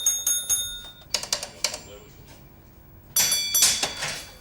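A railway signal box bell at Stockport rings in a coded sequence: a quick run of bright, ringing strikes, a pause with the tone dying away, then a second louder cluster of close, resonant strokes.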